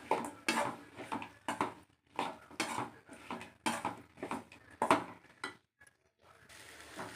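Fried elephant foot yam pieces stirred into masala in a pan, a spoon scraping and clattering against the metal in a quick irregular series of strokes, close by, then a short pause and quieter sizzling, with no voices.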